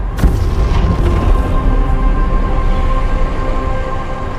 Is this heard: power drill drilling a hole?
no